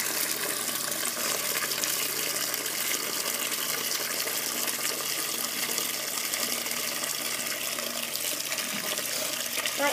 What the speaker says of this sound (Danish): vi er nu i gang med at pumpe vand op.